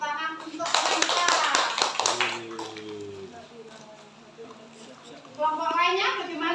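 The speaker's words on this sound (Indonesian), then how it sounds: "tepuk tangan untuk mereka" Classroom clapping for a student group during a peer-teaching lesson on coding and artificial intelligence, a short burst of hand claps mixed with children's voices and talk, then speech continuing.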